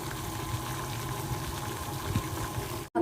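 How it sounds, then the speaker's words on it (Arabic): Spaghetti is dropped into a pot of water boiling on the stove, giving a steady bubbling, churning hiss that stays even throughout before cutting off abruptly at the end. "في مية مغلية على النار هنبدأ نسقط المكرونة"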